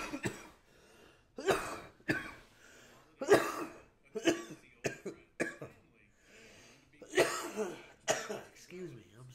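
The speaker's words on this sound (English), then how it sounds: "I'm so sorry for coughing in your ear" Repeated harsh coughs and throat clearing in uneven bursts, close to the microphone, with brief pauses between fits.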